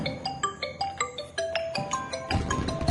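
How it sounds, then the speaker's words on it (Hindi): A phone ringtone plays a bright, repeating electronic melody of short, evenly spaced tones, steady and clear throughout, with a brief burst of louder mixed noise near the end. "आपका फोन आ रहा है।"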